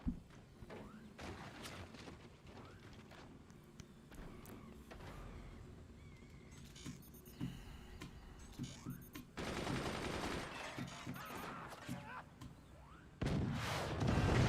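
Video game combat in a fort-battle match, with rapid bursts of gunfire and heavy cannon blasts, dense and continuous, louder toward the end.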